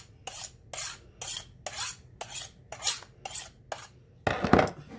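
A sharp knife chops an onion on a board for dumpling filling, about eight crisp, evenly spaced cuts in a steady rhythm, close and clear, ending in a louder clattering scrape.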